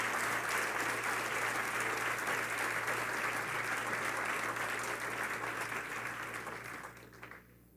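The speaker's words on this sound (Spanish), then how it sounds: "Denle un aplauso al Señor, vamos." A church congregation applauds for the Lord in sustained, dense clapping that fills the room at steady strength, with a low hum beneath, before tapering off and fading near the end.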